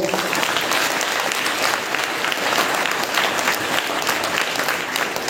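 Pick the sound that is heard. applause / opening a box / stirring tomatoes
applause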